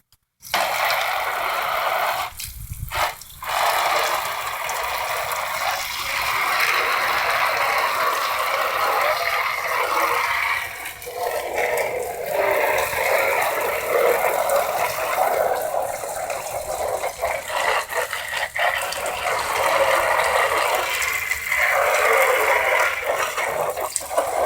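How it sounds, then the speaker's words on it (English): Garden hose spraying water over an RC car during cleaning, a steady broadband hiss running almost continuously and fairly close, with brief breaks and shifts in intensity as the spray moves across the car. "Okay guys, got the hose on, and you're supposed to put it on flat."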